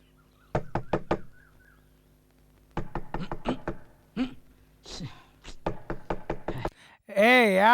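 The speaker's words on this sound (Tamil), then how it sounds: "ஏய் யாரா அது நடுராத்திரில கதவை தட்டிக்கிட்டு?" Knuckles rap on a door at midnight in several rapid clusters of sharp, fairly close knocks with pauses between, followed by a brief wobbling comic sound effect.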